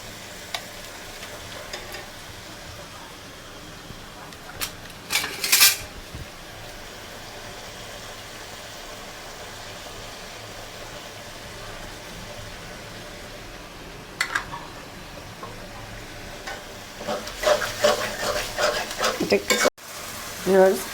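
Goat liver fries in a pan as ginger-garlic paste goes in, a low sizzle broken by clattering bursts of stirring near the middle and end.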